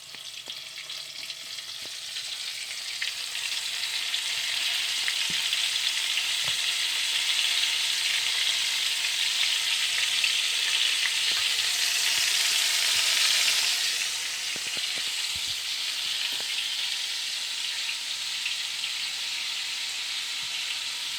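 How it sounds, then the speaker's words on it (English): Battered oyster mushrooms fry in grapeseed oil with a steady, loud sizzle and crackle that swells briefly midway, alone with no talk. "So I'm just gonna drop it in the grease. This is grapeseed oil."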